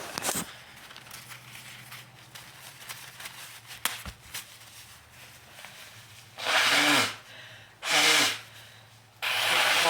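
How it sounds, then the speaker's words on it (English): Two loud, breathy nose blows in quick succession, with the start of a third at the end, following a stretch of quiet handling noise. "I gotta put this down because I gotta blow my nose."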